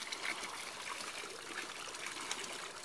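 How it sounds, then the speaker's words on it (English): Water drains steadily from an aquaponics tank, a continuous trickling, gurgling flow at moderate loudness with no talk over it. "where it sounds like your bathtub is draining, that suction sound"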